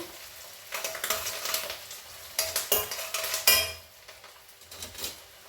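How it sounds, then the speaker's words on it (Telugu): Ginger garlic paste fries in a pan for a Hyderabadi mirchi ka salan, sizzling under bursts of clattering metal as a spoon scrapes and stirs, then settling into a quieter sizzle. "కొంచెం అల్లం వెల్లుల్లి పేస్ట్ స్టవ్ కొంచెం తగ్గించుకుందాం ఇప్పుడు"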